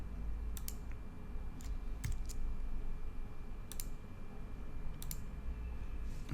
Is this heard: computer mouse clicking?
yes